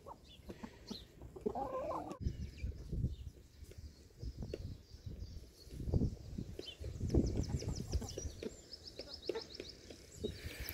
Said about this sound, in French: dès que Pimousse est vraiment côte à côte avec une autre poule et pas très loin de Chéri